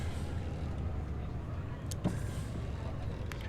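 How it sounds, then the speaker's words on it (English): A city bus in the City Transport Simulator game gives off a continuous low engine rumble and rattle, a steady muffled drone with a faint clunk partway through. "you can hear the bus rattling away"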